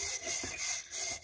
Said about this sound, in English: now I'm rubbing this stuff with my awesome little scrapey thing